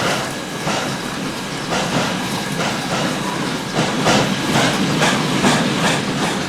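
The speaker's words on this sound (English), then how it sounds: "reached steam and puffed quickly away" A steam engine puffs steadily along a railway track, its rhythmic chuffs and hissing blending with clickety rail noise, loud and close throughout with no voices.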